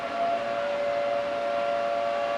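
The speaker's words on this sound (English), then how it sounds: "We've been hearing the siren for months now." A siren plays as a wrestler's entrance in the video game WWE 2K23, a steady wailing tone that holds at an even pitch and loudness for a few seconds, alone with no talk.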